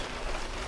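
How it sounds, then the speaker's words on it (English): Rain falls steadily in the Deem Wilderness Area of southern Indiana, a dense, even hiss of drops that fills the short moment with no voices. "it is raining quite a bit right now"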